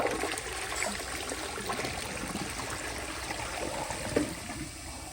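A 1991 Cisa round toilet flushes with a steady rushing, gurgling wash of water that runs evenly throughout, close and moderately loud, with no talking.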